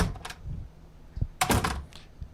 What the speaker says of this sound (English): Wooden doors.